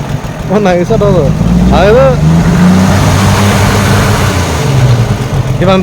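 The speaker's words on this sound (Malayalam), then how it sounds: "അത് എൻജിൻ സൗണ്ട് നൈസ് ആട്ടോ" A 1941 Chevrolet Fleetmaster engine revs with a steady, deep mechanical rumble that runs throughout, while people talk over it.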